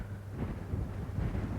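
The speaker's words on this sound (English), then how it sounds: "It is windy" Low rumbling wind buffeting a microphone outdoors in Derbyshire, steady and fairly loud with no voices, captured on an old VHS recording.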